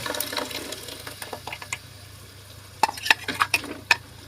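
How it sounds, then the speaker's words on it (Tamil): Ground masala is stirred into a fish curry in a pan, with soft scraping and gentle bubbling at first, then a cluster of sharper spoon clinks and scrapes against the pan toward the end. "இதை அப்படியே நல்லா கலரி விட்டுலாங்க நல்லா மிக்ஸ் ஆகிற வரைக்கும் நல்லா கலர் விட்டுருங்க"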